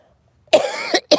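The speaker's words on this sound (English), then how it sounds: "Smoker's cough." A smoker's cough: one harsh, rough cough with a brief second burst, then another short cough, close and loud against an otherwise quiet background.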